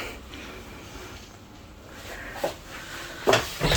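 Hotel room wardrobe doors are pulled open, a few soft clunks and sliding knocks building toward the end over quiet room tone, close by with no speech.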